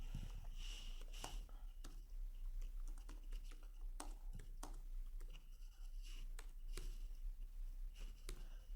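Fingers tapping on a computer keyboard while entering post text, a quiet, uneven patter of soft clicks with brief pauses over faint steady hum, no voices.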